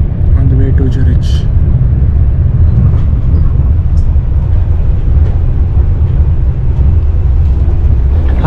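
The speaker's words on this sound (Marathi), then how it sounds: "आता आम्ही बसलो ट्रेनमध्ये on the way to Zurich." Inside a train travelling through Switzerland toward Zurich: a steady, loud low rumble of wheels and carriage fills the whole stretch, with faint voices and small clicks now and then.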